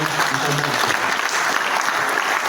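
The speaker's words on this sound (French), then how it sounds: "Je vous demande d'applaudir très fort le ministre." Audience applause for a provincial interior minister at the installation of a committee, a dense, steady wash of clapping filling the room for a few seconds with no pauses.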